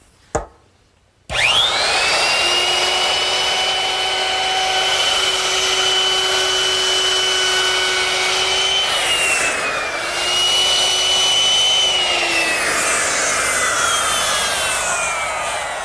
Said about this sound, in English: With another router bit change to a 1/4 inch rounding over bit, I can now ease the back edges of the frame.